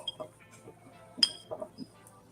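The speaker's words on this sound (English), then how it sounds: "I cannot open the bottle now." A glass bottle of oil, described in connection with traditional Philippine healing practices, is handled in a quiet room, giving a few soft clinks and one sharper glassy tap, with faint murmuring in the background.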